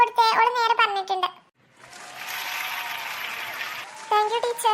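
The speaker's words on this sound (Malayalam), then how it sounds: "ഒരു ക്ലാപ്പ് കൊടുത്തേ" Children in a classroom clap together in a brief burst of applause lasting about two seconds, preceded and followed by a child and an adult speaking.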